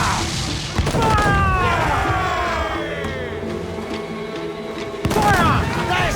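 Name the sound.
ship cannons firing in video game Assassin's Creed IV Black Flag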